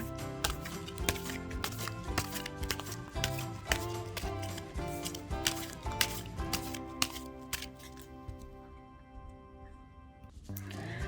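Tarot cards are drawn and shuffled from a deck for a Scorpio weekly fortune reading, giving close, irregular papery flicks and snaps over steady tonal background music, with no talking.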